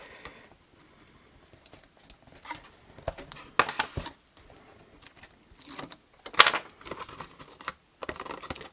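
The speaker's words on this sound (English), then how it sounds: "I'm going to put some more tape along here." Tape is pulled and pressed onto a scored card in short crackling bursts and light taps, near and intermittent, with quiet pauses between.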